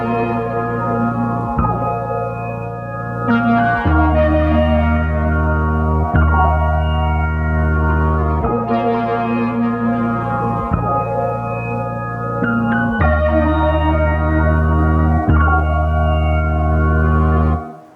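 A pitched-up analog music sample plays as a looping phrase of bright sustained synth chords with sharp note changes every couple of seconds, loud and even, cutting off abruptly at the end without any talk.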